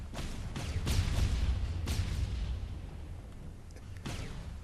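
Missile launches in a Disney Infinity toy box game, with several sharp whooshing bursts over a low rumbling bed, spaced irregularly and fairly faint.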